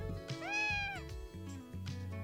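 Cat named Carlo meowing in the Piofiore: Fated Memories video game, one clear drawn-out meow, close and distinct, amid low background music.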